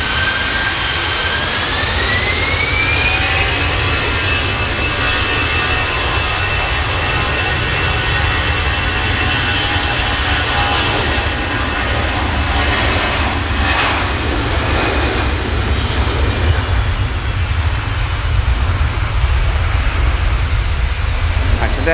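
EasyJet jet airliner at Manchester Airport, its engines giving a loud, sustained roar with a rising whine that holds steady and close, and a voice talks briefly over it.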